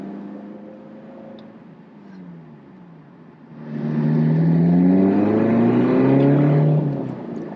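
A Lotus Elise Sport 220 engine hums quietly, then surges into a loud, rising acceleration with climbing revs that holds strong before easing slightly.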